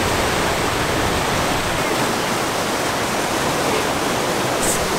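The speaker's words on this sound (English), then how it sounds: "When of two now, we can see the waterfall." A waterfall at Banff roars as a steady, dense wash of rushing water, loud and constant throughout with no voices.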